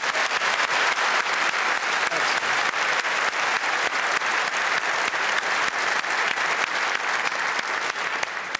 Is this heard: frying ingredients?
no